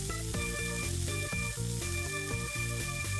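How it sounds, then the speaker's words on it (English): Catnip cooks in melted butter in a pan, a soft continuous sizzle sitting beneath louder steady background music with a strong repeating rhythm. "I don't want to cook this for too long, just long enough for the catnip to get buttery and a little bit soft."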